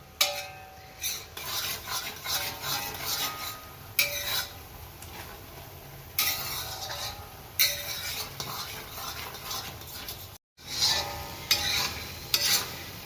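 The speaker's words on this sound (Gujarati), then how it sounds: "મિત્રો આમાં થોડા થોડા નીચે તળિયે બબલ્સ થાય છે" Milk reducing in a thick kadai for thabdi penda bubbles softly while a spoon scrapes and stirs the pan bottom in repeated strokes, close by, with brief pauses between bursts.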